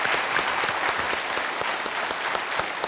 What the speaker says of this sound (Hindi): तालियों के साथ उनका अभिनंदन।